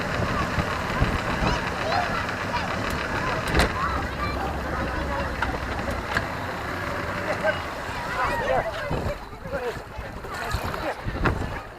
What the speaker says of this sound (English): And here, I need to stop the engine.